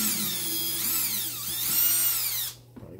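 A power drill whines steadily, dipping and rising in pitch, as it backs screws out of a Bissell ProHeat Essential carpet cleaner. It runs loud and close for about two and a half seconds, then stops abruptly.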